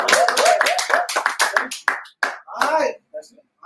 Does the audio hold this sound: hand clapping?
yes